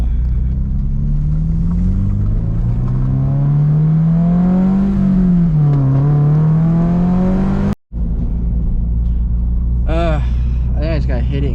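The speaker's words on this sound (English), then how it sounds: "I'm not gonna drift, but I'm gonna try to do a handbrake reverse like turn thing." A Subaru BRZ engine revs hard during a handbrake turn, its pitch climbing and dipping in a loud, sustained drone, then cutting off abruptly before a rougher idle with brief higher whines returns.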